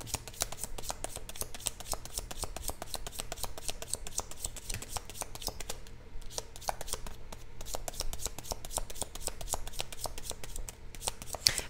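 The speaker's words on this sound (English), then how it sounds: "These cards are the hardest cards to shuffle." Tarot cards are shuffled continuously by hand, a rapid dense riffle of crisp flicks and slaps, close and steady, with a brief pause midway.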